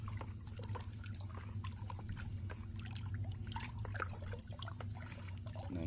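Liquid fertilizer mixture for avocado trees is stirred in a tank, producing soft sloshing and trickling water sounds over a low steady hum, quiet and continuous with occasional light splashes.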